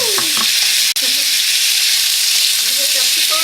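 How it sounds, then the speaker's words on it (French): Pork sizzles loudly in a hot pan over high heat, a dense constant crackle and hiss with a brief clatter of a utensil, close and alone without talk. "on va mettre chauffer ça à feu quand même vif, et on va faire griller notre viande"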